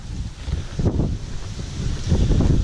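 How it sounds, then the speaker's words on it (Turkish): Strong wind during LRF bluefish fishing buffets the microphone in a continuous low rumble, with gusts swelling and fading throughout. "Çok da rüzgarlı bir hava var."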